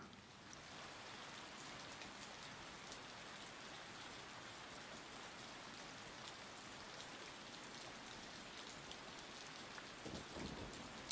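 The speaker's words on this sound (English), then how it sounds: "The rain seems overly loud to me." Steady, loud in-game rain from the Trainz train simulator with a Victorian Railways steam train, a dense continuous hiss of drops on surfaces that stays unbroken throughout.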